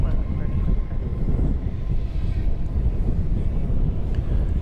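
A Boeing 737-800 passes at DFW Airport at night, heard as a loud, steady low roar of jet engine noise with wind rumble, continuous and fairly close, with no other clear sounds on top.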